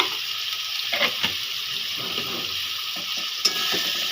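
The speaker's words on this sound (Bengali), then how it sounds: "এটা আমি দু মিনিট ধরে কষে নেব মশলাটা দেখুন আমার মশলা দিয়ে তেল ছেড়ে দিয়ে দিয়েছে" Spice paste frying in oil in a pan for a bitter gourd and prawn dish, a steady close sizzle with soft intermittent scraping of a spatula and one brief metallic clink.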